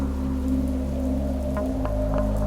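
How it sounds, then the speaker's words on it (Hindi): Rain falls steadily through a bamboo forest at night in a steady close patter, with a low constant hum beneath the drops and a few sharper drips standing out. "सिर्फ बारिश की बूंदें और बांस के पेड़ों की चरमराहट सुनाई दे रही थी"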